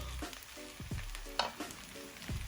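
Butter melts in a hot pan for prawn fried rice, a soft close sizzle under low-level kitchen clatter and a few short knocks, with no talking.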